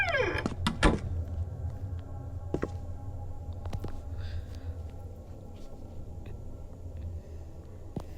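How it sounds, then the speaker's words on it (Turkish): A door closing in the horror video game The Ghost, with a few sharp clicks and thuds near the start over a steady low game hum, then only faint scattered ticks. "Bak kapıyı da kapatıyorum"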